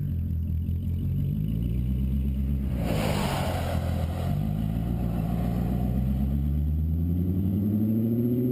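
A straight-piped car engine revs hard, rising and falling in pitch through several throttle blips with a raspy, loud exhaust roar and a brief burst of rushing noise, close by and with no talk over it.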